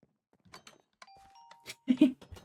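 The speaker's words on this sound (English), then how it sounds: "that doorbell's awesome" A bright two-tone electronic doorbell chime in a video game sounds briefly, ringing out as a sustained tone, with a voice speaking around it and a louder exclamation near the end.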